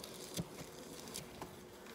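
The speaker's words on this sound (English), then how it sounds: "looks like we got a lot of bees down in there" Honey bees hum quietly inside an opened hive during an early-March inspection, a faint close buzz with a few soft taps and scrapes.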